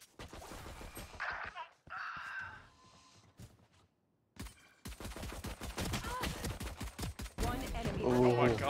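Bursts of video game gunfire come in short rapid volleys separated by gaps, with a loud dense barrage near the end, close and punchy.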